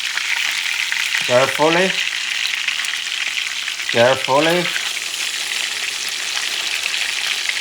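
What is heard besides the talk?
catfish frying in a pan after being flipped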